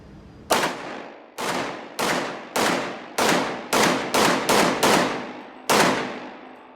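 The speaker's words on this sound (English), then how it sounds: "I didn't know he was shooting, and I went, oh, that was a 40" Nine sharp, loud pistol shots from a Ruger SR40 .40 caliber handgun at a shooting range, spaced irregularly with a few quick pairs, each ringing out with a short decaying echo and no talking.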